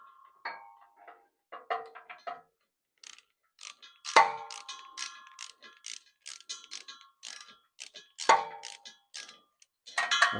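Ratcheting socket wrench clicks in short irregular bursts while drive shaft bolts are tightened on a 1970 Dodge Challenger, up close and fairly quiet, with brief pauses between strokes.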